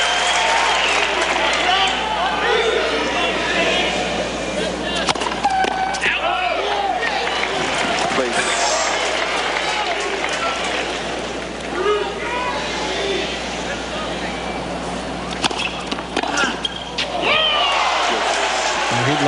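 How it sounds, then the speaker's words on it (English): Crowd at a 2002 US Open fifth-set tennis match between Sampras and Rusedski, roaring and cheering steadily throughout, a broad dense wash of many voices with scattered shouts and claps, commentary heard over it. "Crowd pumped up."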